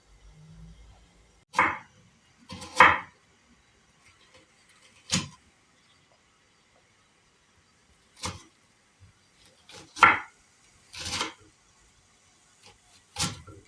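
A knife cuts vegetables on a board with sparse, irregular sharp knocks, close and fairly quiet, separated by near-silence.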